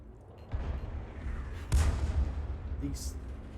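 FV304 self-propelled artillery firing in World of Tanks: two deep, muffled booms with a low rumbling tail, heard faintly beneath a game soundtrack and background noise.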